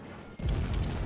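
Naval guns firing on a cruiser in World of Warships, landing as a single deep, rumbling boom that bursts out after a brief quiet moment and lingers loudly.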